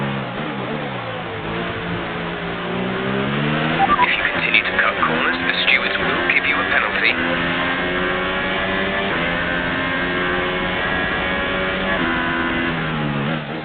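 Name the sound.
F1 car engine failure in F1 2018 video game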